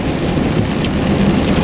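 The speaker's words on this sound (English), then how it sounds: "it is pouring down rain" Heavy rain pours down steadily at night, a dense, loud, continuous hiss and patter on surfaces with no break.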